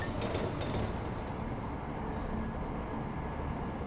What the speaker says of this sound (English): The big old subway train ride.